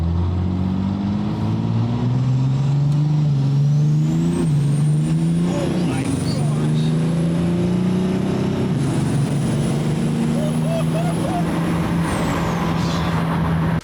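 A 6.7 Cummins diesel burnout truck revs hard and loudly, its engine note rising and falling in long sweeps over a steady roar for the whole stretch, with a high whine overhead and some voices mixed in.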